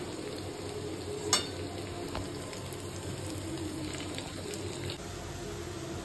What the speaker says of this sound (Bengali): এদিকে করছি হচ্ছে সয়াবিনটা একটু ভাজা ভাজা করে নিচ্ছি, তাতে একটু ক্রাঞ্চি ক্রাঞ্চি ব্যাপারটা আর কি আসবে